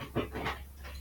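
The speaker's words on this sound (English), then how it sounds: "that's my dog making noise." A pet dog pants briefly and lets out a soft whimper, faint and close by, with no one talking.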